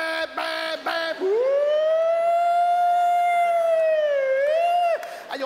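A voice imitates an ambulance siren with one long, loud, sustained wail that dips and rises before cutting off, after a few shorter vocal bursts.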